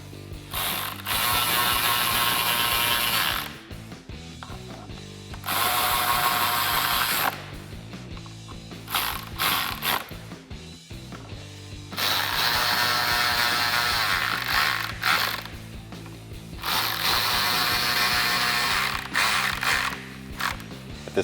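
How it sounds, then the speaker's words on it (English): A ratchet with a T30 Torx bit retightens bolts on a 2021-2022 Ford Bronco third brake light bracket, producing several bursts of rapid clicking, each lasting a couple of seconds and separated by short pauses. "And retighten them with your T30 Torx bit."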